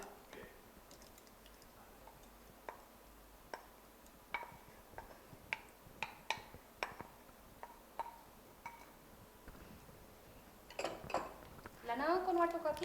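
A cooked masala mixture being transferred into a mixer jar: a series of sharp clinks and taps of a spoon against the jar, irregular and close but fairly quiet, ending in a louder burst of scraping and clatter.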